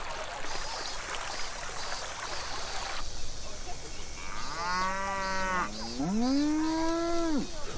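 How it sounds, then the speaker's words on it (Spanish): Cows moo in the video game Shin chan: Mi verano con el profesor, several long drawn-out lowing calls overlapping in the second half over a soft flowing-water background. "¡Uy, las vaquitas!"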